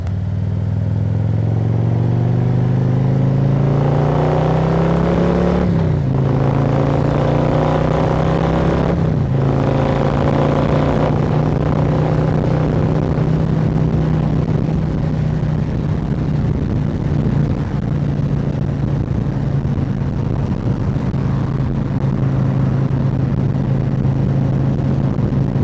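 A group of Harley-Davidson and BMW motorcycles pulls away together, loud close engine drone rising in pitch as the bikes accelerate and shift, then settling into a sustained roar.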